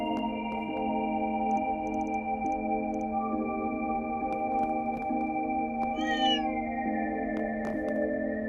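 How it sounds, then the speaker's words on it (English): Cats meow and caterwaul in the video game The Legend of Heroes: Trails Through Daybreak II, with short rising cries heard over a steady sustained music bed. "I guess the cats are feeling a little bold today."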